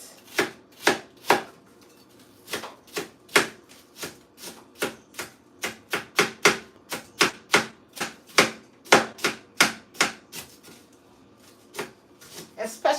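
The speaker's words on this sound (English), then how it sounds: "So I'm going to cut my onions." A knife chops onions on a cutting board in a steady series of sharp, close thumps, about two per second with brief pauses, while making chili soup.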